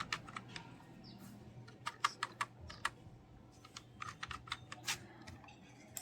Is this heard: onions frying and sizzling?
no